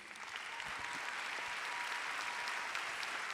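Applause from a seated audience at a masterclass event, a dense and steady wash of many hands clapping at moderate volume, with no break over its length.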